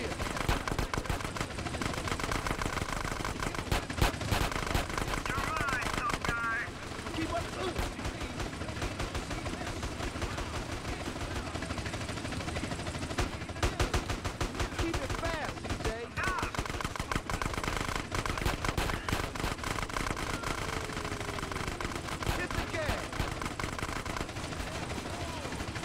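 Gunfire in GTA San Andreas during a police chase crackles in rapid bursts of shots over a dense, continuous wash of game noise, with voices talking through it.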